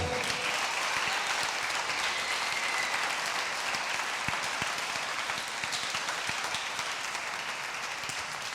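Loud, steady applause from a church congregation, dense uninterrupted clapping at an even level from start to finish.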